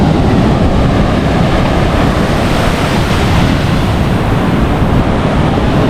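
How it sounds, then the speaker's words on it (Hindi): Large waves crash against a sea wall on a stormy beach in rain, a loud, continuous roaring wash of surging water with heavy low rumble and wind buffeting, filling the whole stretch without any talk. "काफ़ी लंबी लहर हो जाती है जब वो दीवार से टकराती है"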